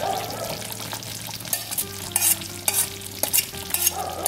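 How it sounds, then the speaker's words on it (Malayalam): Green masala gravy poured into a pan of sizzling chicken for Hyderabadi green chicken, then stirred: a steady fry hiss broken by repeated scraping, stirring strokes, close and fairly loud, with no voices. "അതിലേക്ക് നമുക്ക് നമ്മൾ മിക്സി കഴുകിയിട്ടുള്ള ആ ഗ്രേവി ഉള്ളത് ഒഴിച്ചു കൊടുക്കാം."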